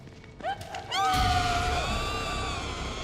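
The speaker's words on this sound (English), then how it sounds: "don't worry if she screams." A woman screams in the horror video game The Evil Within 2, a loud, wavering, drawn-out shriek rising over a heavy thud and scuffling, with rough ambient noise continuing beneath.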